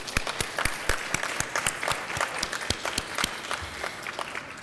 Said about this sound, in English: give the Grants to States team and the ORE team a round of applause